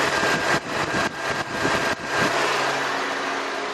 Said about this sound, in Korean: 차량 엔진 소음 먼저 들려드리면은